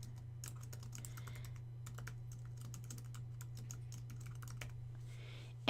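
Rapid keystrokes on a computer keyboard while adding page content, a steady close clicking rhythm over a constant low hum, with a louder knock at the very end.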